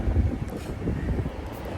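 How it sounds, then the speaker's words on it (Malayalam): Hot wind blows at a farm in Bahrain, a low, gusty rumble buffeting the microphone in uneven surges, with no talking. "നല്ല കാറ്റുണ്ട്, പക്ഷെ ആ കാറ്റിന് ചൂടുണ്ട്"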